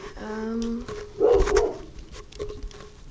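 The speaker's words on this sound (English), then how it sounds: "my dog is currently barking very loudly at 5:43 in the morning" A pet dog named Axel barks indoors in the early morning, one short loud burst after a brief higher whine, then quieter household noise.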